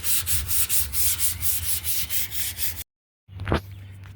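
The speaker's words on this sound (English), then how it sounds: "You gotta get this all sanded down." Sanding a painted car suspension part from a 7th-gen Honda Accord, a steady back-and-forth rasp in quick repeated strokes, close and loud, stopping abruptly and then resuming briefly.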